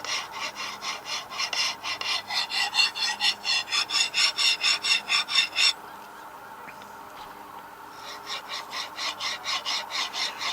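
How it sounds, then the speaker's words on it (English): A carbon steel knife is sharpened on a fine stone, close rhythmic rasping strokes in a steady back-and-forth series, a brief pause, then more strokes resuming. "it'll grind rather easily even on this fine stone"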